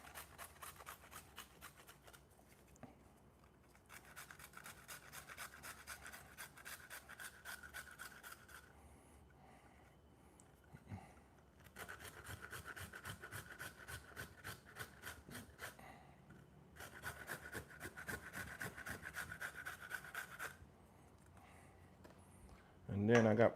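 An organic carrot is grated into flour, rhythmic rasping strokes coming in several bursts separated by pauses, quiet and close, with a brief louder knock at the end.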